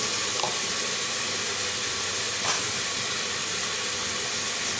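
Garlic-ginger paste frying for arvi gosht, a steady broad hiss and sizzle filling the whole stretch, with a couple of faint clinks and no talk.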